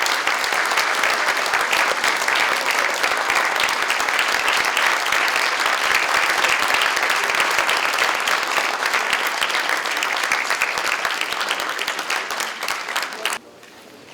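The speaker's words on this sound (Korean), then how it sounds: "감사의 박수 한번 부탁드립니다" Sustained audience applause in a large party central committee meeting hall, dense and loud, holding steady for many seconds before cutting off abruptly near the end.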